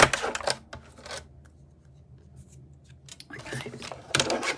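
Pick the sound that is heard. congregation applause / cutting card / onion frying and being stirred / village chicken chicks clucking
cutting card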